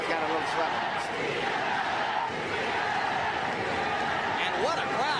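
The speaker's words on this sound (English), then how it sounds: "They go back and forth, chanting, cheering, challenging each other" A packed arena crowd at the first Pacquiao–Marquez boxing fight chants and cheers in a dense, unbroken roar that stays loud throughout.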